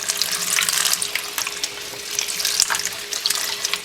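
Tap water runs steadily while dyed silk hankies are rinsed in a colander, with uneven splashing and spattering as the fabric is handled under the stream.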